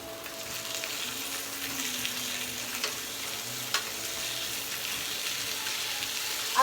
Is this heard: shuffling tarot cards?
no